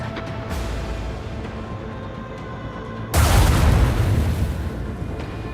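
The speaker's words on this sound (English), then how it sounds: "Fire the lance batteries!" Lance batteries firing in a Halo video game: a low rumbling backdrop suddenly breaks into a loud, sustained explosive blast midway, booming and then slowly fading, with no voices.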